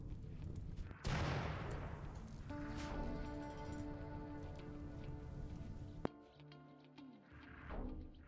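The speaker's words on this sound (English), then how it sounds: "We can see the mortars just flying over." Mortars firing in the colony video game Rimworld: sharp, loud blasts with crackling bursts over a steady noisy background, and one hard bang near the end.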